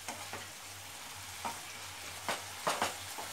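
Mushrooms stir-fried with soy sauce over a high flame produce a steady, close sizzling hiss, broken by a few short scraping stirs.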